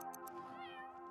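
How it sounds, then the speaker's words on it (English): A single short meow from a cat in The Sims 3, quiet and close, with no talking. "Or a cat noise. What are the cats doing?"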